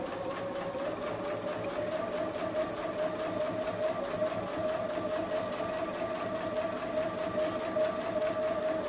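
A JUKI sewing machine runs steadily, stitching a fabric beverage coaster with a continuous, close, rapid whirring hum that holds its pace for the whole stretch without pause or speech.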